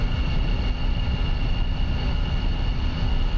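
A MiG-21 jet engine in a DCS flight simulator drones steadily while taxiing, a constant dense whine-and-roar with a faint high tone running unbroken throughout.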